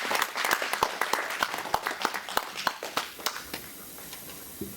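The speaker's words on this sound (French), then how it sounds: "si on peut les applaudir ensemble" A group applauding the initiators at an official launch event, with sharp distinct claps over a softer background of applause that gradually thins and fades.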